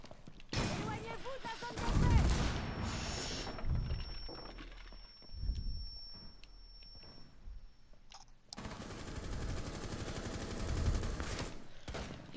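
Gunfire in the tactical shooter Rainbow Six Siege, bursts of shots and a rapid fusillade over busy game noise, with players talking over it.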